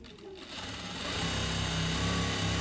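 A sewing machine runs a steady, close, continuous whir as it stitches a leg seam in fabric during a tailoring class, with no pauses in the short stretch.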